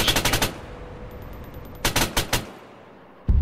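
Machine-gun fire in the Arma 3 military game comes in two short rapid bursts separated by a pause, sharp and close, followed by a single loud report at the end.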